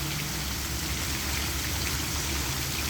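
Water from a fountain in Rimini in spring pours and splashes in an unbroken, hissing spatter, loud and near, with no speech over it.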